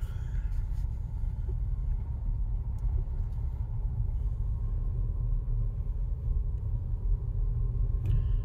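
A Nissan Altima creeps slowly up a driveway toward a gate, giving a low, steady engine rumble and road noise from inside the car, with no speech during the clip.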